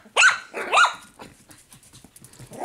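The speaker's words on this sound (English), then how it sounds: "don't be excited about them making all this noise and thinking they're going to be noisy pups" A litter of young puppies barking, two sharp close yaps followed by scattered fainter yips and rustling, with no talking.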